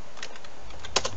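Keystrokes tapping on a computer keyboard spray-painted black, faint and sparse over low room hum, ending with a couple of sharper clicks.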